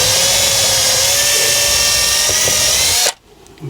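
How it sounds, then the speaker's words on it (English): Power drill whirring loudly and steadily at close range for about three seconds, then cutting off abruptly, leaving quiet room noise with a faint click. "without the drill bit falling out the drill"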